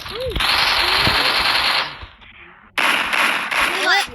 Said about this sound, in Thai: เอาลูกซองยิงหัวมัน